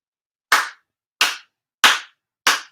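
Four crisp, evenly spaced hand claps from a shrine ceremony ritual, loud and close in near silence, each a sharp smack with a brief ringing tail, landing about two-thirds of a second apart.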